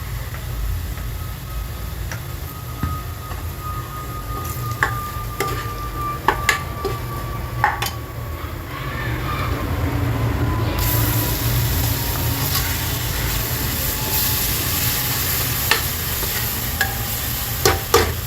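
Ginger garlic paste with tomato and coriander fries in a pan on a gas stove, giving a steady close sizzle with scattered clicks and scrapes of stirring, the hiss growing brighter and louder about halfway through.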